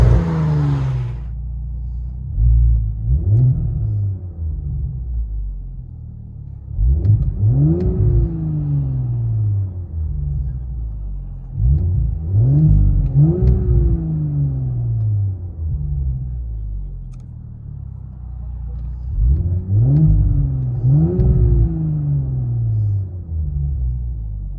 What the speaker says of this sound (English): Audi S5 2021 with an MBRP system.